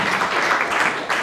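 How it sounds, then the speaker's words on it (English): A crowd applauds a guest speaker named Kyle, a loan officer, at a business presentation; the clapping is steady and dense, filling the room for a brief moment. "Put a quick round of applause together for Mr. Kyle."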